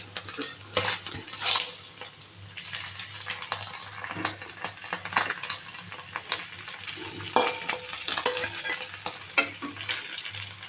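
Tangra fish frying in oil in a pan, a close crackling sizzle with repeated scraping and clinking of a spatula as the pieces are lifted, steady throughout with no talking.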